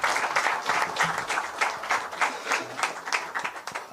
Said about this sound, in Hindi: जरा ताली वाली बजाओ इनके लिए